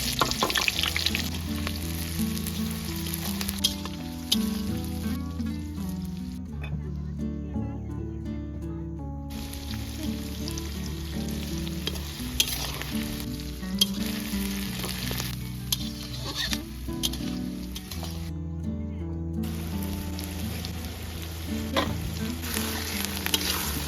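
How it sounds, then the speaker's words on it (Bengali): Small potatoes fry in hot oil in a wok, a steady dense sizzle with crackling pops running throughout, close and fairly loud, with stirring scrapes and soft clanks from time to time. "আর খাওয়ার জন্য ছোট ছোট আলু ভাজা হচ্ছে"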